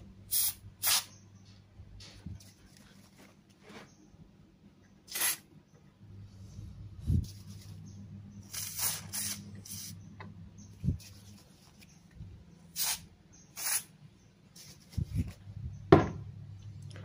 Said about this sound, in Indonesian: Terus kita bersihin. Kita semprot.